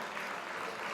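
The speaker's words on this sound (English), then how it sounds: "let's give Daniel a round of applause" Audience at a senior banquet and awards night applauding, a brief, steady wash of clapping heard fairly faint and at a distance.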